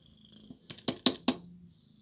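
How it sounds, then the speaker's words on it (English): A bobcat purrs in a short burst of four or five rough, pulsing breaths rising in loudness, then fades against a faint steady background hiss. "Bobcats are not the largest cats."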